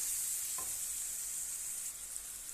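Spice masala with cumin powder fries in a pan, giving a steady, close, hissing sizzle that runs unbroken with no talking.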